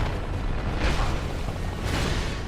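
Old Dragonslayer boss in a video game unleashing a four-hit combo, heavy booming impacts over a dense rumbling game background, two swells standing out a second apart.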